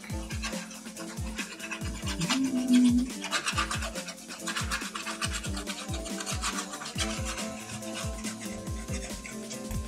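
Wood filler being sanded off the edge of a homemade bowed guitar, a close, continuous rhythmic rasp of quick back-and-forth strokes over about ten seconds with no speech.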